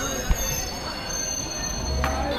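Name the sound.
Bagh Express train moving slowly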